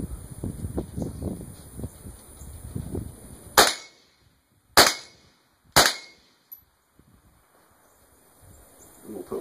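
Three sharp .22 rifle shots from a Mossberg 702 Plinkster at steel plates, each a loud crack with a ringing ping that trails off, spaced about a second apart after earlier low rustling and talk outdoors.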